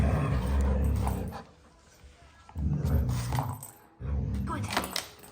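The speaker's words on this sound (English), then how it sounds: "Niko, stop growling." A dog's low growling and rough vocal bursts in two loud stretches separated by a quieter pause, close to the microphone, during play with a cat toy alongside a golden retriever.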